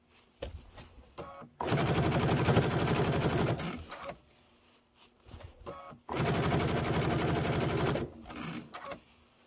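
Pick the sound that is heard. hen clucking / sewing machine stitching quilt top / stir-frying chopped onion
sewing machine stitching quilt top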